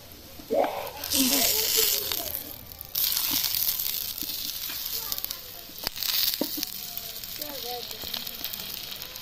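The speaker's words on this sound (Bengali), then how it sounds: "দেখুন এখন এই চাপটি ভাজবো আর কি" Egg-and-sugar chapati batter fries in oil on a gas stove, giving a steady crackling sizzle with bursts of louder spitting throughout, and a faint voice briefly rises under the frying.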